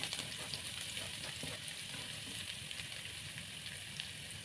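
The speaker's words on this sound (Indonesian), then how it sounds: "Aku mau tumis bawang putihnya dulu ya." Garlic sautés in hot frying oil for a stir-fry of bitter melon and salted squid, producing a continuous dense sizzle nearby with small crackling pops and no voices.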